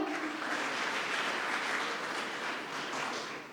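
Audience at a college event applauds a guest, a steady, even patter of many hands clapping, fairly faint and continuous, with no talking.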